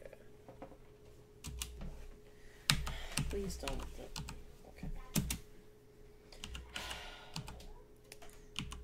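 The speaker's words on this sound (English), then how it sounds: "You should start typing." Keystrokes clatter on a computer keyboard in irregular bursts of quick clicks, a few sharper taps standing out, beneath a steady electrical hum while people talk nearby during a Quest for Glory 4 play session.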